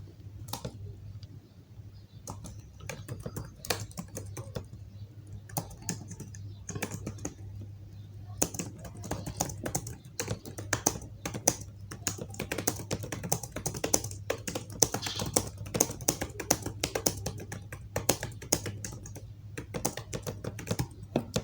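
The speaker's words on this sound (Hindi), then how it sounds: "मैं यहाँ पे इसको टाइप करके देता हूँ।" Typing on a computer keyboard goes on as a continuous run of quick, close clicking keystrokes, with a brief lull near the start, over a faint low hum.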